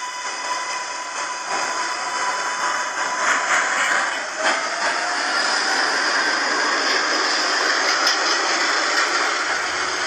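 An Armour 42A6 train in the game Hmmsim 2 runs steadily with a constant hiss and mechanical hum, a faint tone fading early, with occasional clicks along the way.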